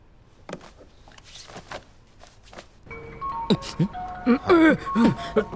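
A mobile phone ringtone in an office scene from the Hindi-dubbed film Yevadu 3, a bright melodic tune with steady tonal beeps that starts about halfway through and grows louder, after a quieter stretch of light taps and rustles.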